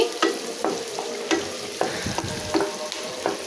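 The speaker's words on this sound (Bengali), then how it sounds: "তো এখন মিষ্টি কুমড়াটা ভাজি" Sweet pumpkin fries in a pan, a constant close sizzle broken by regular scraping strokes of a spatula stirring the pieces, with no talking.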